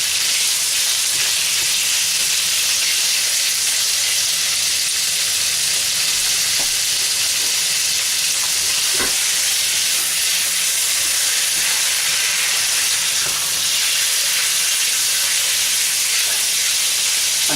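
Chicken pieces fry in a hot pan with a continuous loud sizzle and hiss, and faint scrapes of stirring come and go beneath the steady crackle.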